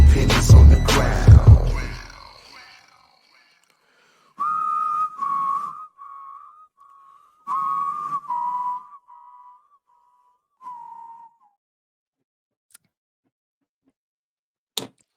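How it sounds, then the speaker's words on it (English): Whistled melody from a music track, a series of sustained tones in phrases with pauses between, following a brief burst of louder noise at the start. "I didn't know there's actually whistling in that"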